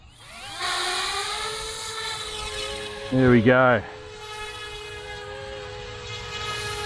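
A YU XIANG F06 EC135 brushless RC helicopter spools up for takeoff with a rising electric whine from its motor and rotors, loud and close, steadying into a constant tone, with someone speaking briefly partway through.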